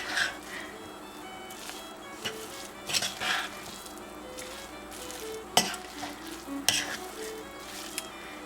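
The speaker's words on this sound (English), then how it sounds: "But I probably don't need to stir all that much, just enough to get everything mixed together." Thick chocolate oatmeal zucchini cookie dough stirred in a bowl, soft squishing drags punctuated by several sharp clinks of the spoon against the bowl, close and fairly quiet.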